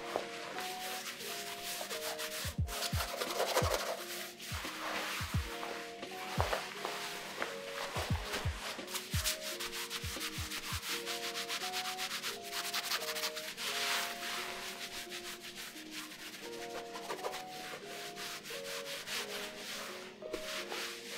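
Techwear cargo pants in Dryskin, Stotz and twill fabrics rustle and swish continuously as the material is rubbed and moved, a steady close scratchy texture broken by occasional soft thumps.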